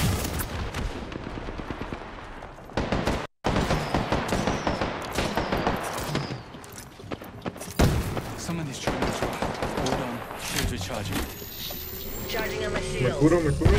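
Rapid gunfire from an Apex Legends match, dense bursts of automatic shots and heavy impacts repeating across the whole stretch, with a brief cut of silence and voices talking over the action.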